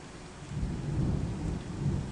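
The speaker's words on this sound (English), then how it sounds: "Hear the thunder?" Deep thunder rumbles through a storm with steady rain, a low rolling roar that swells after the first half second and stays broad and sustained, no voices.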